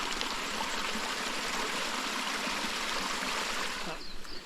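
A creek runs steadily in the bush, a constant broadband rush and trickle of flowing water close by, unbroken for several seconds before easing slightly at the end, with no voices over it.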